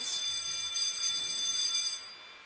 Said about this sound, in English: We're doing an alarm test